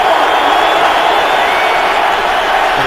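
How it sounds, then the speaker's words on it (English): Dallas Cowboys home crowd at an NFL game against the Cleveland Browns, a steady, dense stadium roar that holds at an even level throughout. "And a little noise from the Cowboy crowd for the first time today"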